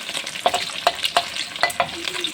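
White rice is stir-fried with garlic and egg into garlic fried rice, with loud, close spatula clinks and scrapes repeating quickly over a sizzling pan and no speech.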